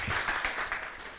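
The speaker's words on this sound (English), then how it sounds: "One more round of applause for him." A brief burst of clapping from a community gathering audience, dense and fairly loud, lasting only about a second.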